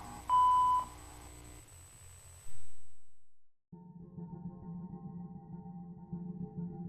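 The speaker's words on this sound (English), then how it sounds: "please leave a message after the tone" An answering machine plays a single clean, steady electronic voicemail beep, loud and close, followed by a rising tone, a brief silence, then a low murmuring background.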